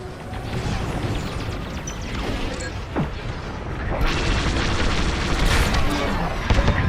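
An Imperial shuttle blows apart in the Star Wars: Squadrons space-combat game: a loud, dense roar of rumbling debris that swells into a heavier burst partway through and keeps crackling to the end.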